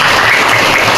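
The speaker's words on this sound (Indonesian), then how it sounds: "Mohon tepuk tangannya semuanya." Applause fills a gathering at an elementary school, a dense continuous burst of clapping from a group, loud and close, with no talking.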